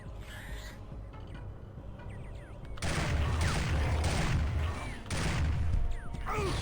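Bursts of rapid gunfire in a Termite Rides a Triceratops video game, a dense loud barrage from about three seconds on, with a brief lull near five seconds before it resumes, over game effects and no talk.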